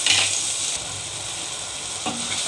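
Tomato frying in a pan over browned onion, a continuous close sizzle with light stirring scrapes and a brief utensil clack near the end.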